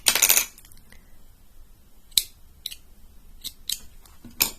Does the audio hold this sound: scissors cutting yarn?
yes